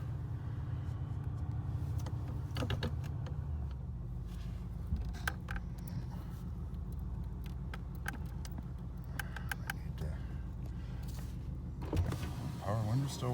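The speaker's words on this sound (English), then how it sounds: "Power window's still working, everything" Electric window motor whirring on a 1985 Oldsmobile Delta 88 with the engine idling, a steady low rumble running throughout and a few faint clicks and knocks over it.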